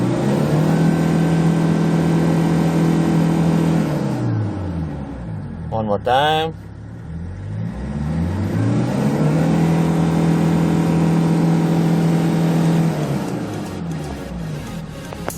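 Diesel engine of a white Kia Bongo 3 King freezer truck with manual transmission, idling then revving up hard twice in rising sweeps with a brief drop between, close and loud, with a short spoken phrase in the middle.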